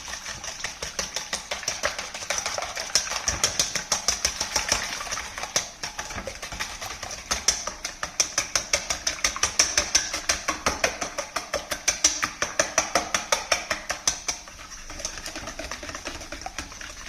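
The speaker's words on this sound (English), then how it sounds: "Whisk the eggs." Eggs whisked in a bowl for a French spinach quiche: a fast, steady run of rhythmic metallic clicks close by, keeping up almost without a break.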